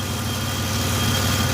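A 1993 Chevrolet S10 pickup's 4.3-liter V6 idles steadily after sitting parked for about twenty years, a close, even low rumble with constant vibration and no talking.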